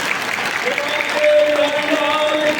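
A satsang congregation in Amritsar claps their hands together in a steady, dense wave of applause that holds for the whole moment, with a voice and sustained tonal sounds running underneath.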